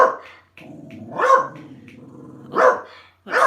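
Small Jack Russell terriers outdoors bark sharply in three loud bursts, with low growling and whining between the barks, close to the microphone.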